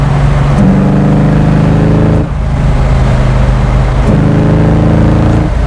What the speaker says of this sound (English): So normally I associate a small block Ford with being like high revving, high horsepower, but this one feels torquey.